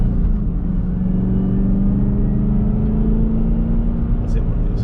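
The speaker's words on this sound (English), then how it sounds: "we're going to go onto this road here that has some manhole covers and see what we got" A 2021 Chevrolet Camaro ZL1 1LE driving on a road with manhole covers, its engine a loud, steady low rumble from inside the cabin with a few faint thumps, while someone talks over it.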